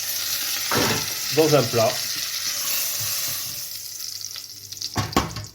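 Lamb shanks sizzling and frying in a pan, a constant hiss under brief French speech, with a few clinks and stirring sounds toward the end.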